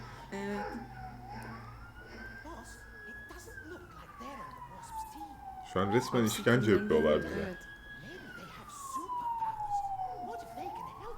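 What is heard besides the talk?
ambulance siren passing by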